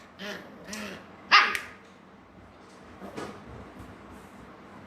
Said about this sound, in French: le chien nous embête un peu.